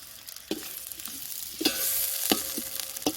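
Soft sizzling of onions frying to light golden in a pot, with a few sharp scraping stirs against the metal at irregular moments.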